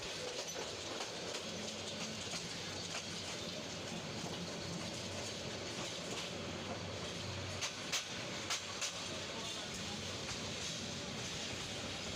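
A train rumbles steadily along the rails with a continuous broadband roar, a few sharp clicks and clanks near the end, heard from close by as it enters Melandah Bazar railway station.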